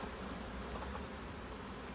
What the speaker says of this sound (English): There's bees on us, all of us, all over the place.